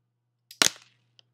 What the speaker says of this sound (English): Both missiles do fire.